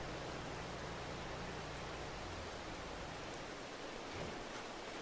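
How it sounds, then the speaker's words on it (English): Steady rain in Farming Simulator 22 hisses as a continuous, even wash of noise, constant in loudness from start to finish with no talking. "Fucking rain."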